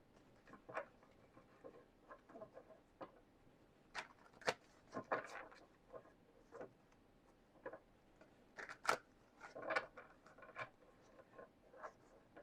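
Quiet papery riffles, flicks and soft taps come in irregular bursts as tarot cards are shuffled close by in a hushed room.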